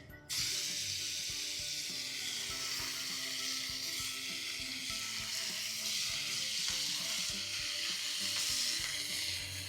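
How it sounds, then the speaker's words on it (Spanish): Bacon crackles and sizzles steadily on a hot comal griddle, a dense, close frying hiss with small pops and occasional scraping clicks, running unbroken with no talk. "Ahora vamos a ir poniendo un poco de tocino en el comal."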